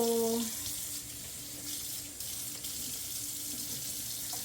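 A tap runs steadily while pork and chicken are washed at a sink, a constant close splashing hiss. A brief voice is heard at the very start.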